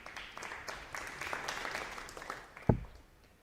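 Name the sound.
darts crowd applause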